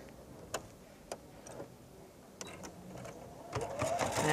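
A Singer embroidery sewing machine stitching a design, heard as a quiet, sparse run of clicks and ticks with a soft mechanical whir that grows slightly busier toward the end.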